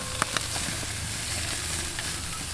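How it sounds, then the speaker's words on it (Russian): Picanha and ribeye steaks sizzle on a grill grate, a steady close frying hiss with a few small pops and crackles, no voices. "Оф, как прекрасно наши стейки жарятся."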